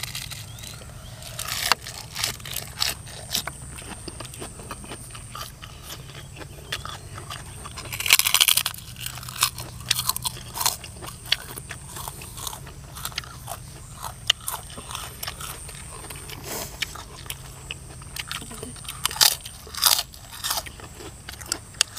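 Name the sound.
crunchy fresh vegetables being chewed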